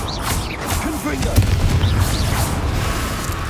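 A Confringo fire spell blasts in the Hogwarts Legacy video game, a dense booming burst with crackling texture over a steady game background, with other mechanical and explosive effects close by.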